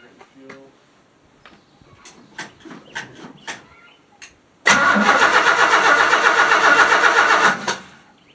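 A 1976 Chevy C10 Custom Deluxe engine cranks briefly, then catches and runs at a loud, steady roar for a few seconds, following a quiet stretch of clicks, taps and faint talk nearby.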